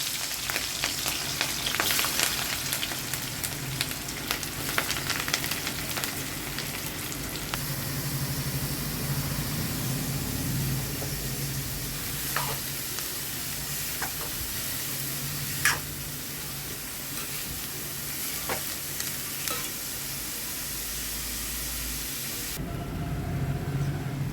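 Onions and green chillies frying with mustard seeds in oil, a continuous sizzle and crackle with occasional sharp pops and stirring clatter, close and steady with no talk.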